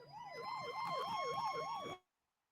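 An ambulance siren in a 1974 film wails up and down in a steady rising and falling cycle for about two seconds, then cuts off abruptly into silence.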